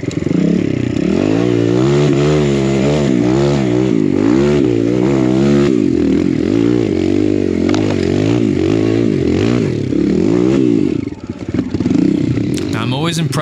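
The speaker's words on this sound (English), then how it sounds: "Impressed with this little KLX when we're out in the snow and just how well this four stroke can really just get traction" A small Kawasaki KLX four-stroke dirt bike climbs through snow, its engine loud and close, revving and bogging in uneven surges with rising and falling pitch, then cutting back near the end.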